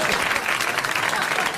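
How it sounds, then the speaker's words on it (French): A studio audience at a 1981 French television show claps in a dense, loud burst of applause. "tout de suite vos applaudissements"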